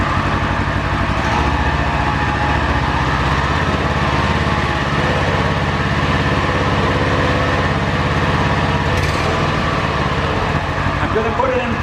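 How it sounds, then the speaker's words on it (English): A UTV engine revs on jack stands with the transmission engaged and the wheels spinning freely during a clutch repair, giving a loud, close, steady mechanical drone throughout. "So I can actually engage the transmission and rev up the motor, and the wheels are just going to freewheel."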